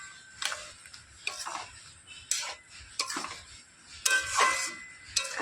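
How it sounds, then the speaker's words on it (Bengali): Jujube pickle with jaggery being stirred in a cooking pot, with a spoon scraping and clinking against the metal in irregular strokes, close and fairly quiet, with no talk. "এবার গুড়ের সঙ্গে নাড়াচাড়া করে কোলটা আমি বেশ কিছু সময় রান্না করে নেব।"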